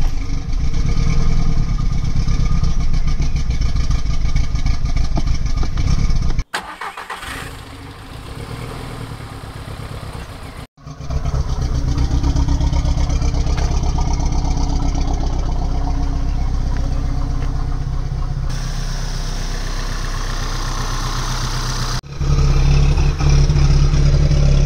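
A VW Golf 1.4 TSI running a stage 3 tune starts up and settles into a steady idle, close and loud, with short pauses and shifts in the engine note along the way and no voices.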